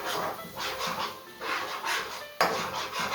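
Garlic and seasoning stirred in a pan, heard as repeated scraping and clinking strokes of a utensil against the metal, close and moderately loud, with no talking.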